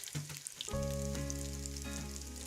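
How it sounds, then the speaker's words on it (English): Close, steady sizzling of vegetable patties frying in a hot pan, a continuous crackling hiss that swells after a brief quieter start. "I'm going to wait for these to fry"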